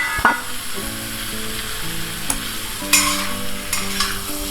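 Boiled potatoes tipped into a pan of fried spices while cooking aloo paratha filling, giving a steady close sizzle with sharp clatters of the spoon stirring against the pan; music plays underneath.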